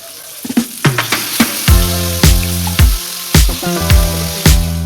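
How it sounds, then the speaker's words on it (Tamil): Fish frying in oil with curry leaves, a steady sizzle punctuated by loud, regular ringing clanks of a metal utensil against the pan, about two per second, close and without speech. "எல்லா மீனையும் சேர்த்துட்டோம் இது நல்லா பொறிஞ்சு வரட்டு"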